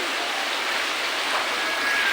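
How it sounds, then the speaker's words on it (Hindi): Monsoon rain falls steadily in Banaras during the Sawan season, a dense even hiss with no other sound over it. "और बारिश हो रहा है दोस्तों"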